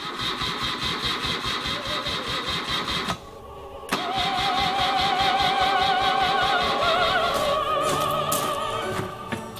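A freeform custom motorcycle engine cranks and catches briefly, then cuts out. After a short gap it starts again and runs rough and loud for several seconds before fading. No one speaks.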